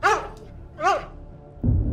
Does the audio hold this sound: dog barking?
yes